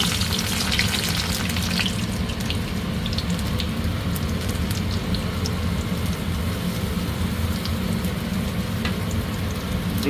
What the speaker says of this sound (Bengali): হিং দিয়ে দিলাম, সরষে আর জিরে ফোড়ন